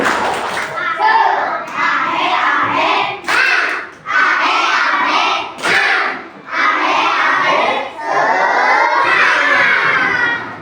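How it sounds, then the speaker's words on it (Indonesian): A standing class of schoolchildren performs a rhythmic spirit clap chant, shouting together in bursts broken by short pauses, loud and close, their voices dominating over the claps. "Tepuk semangat."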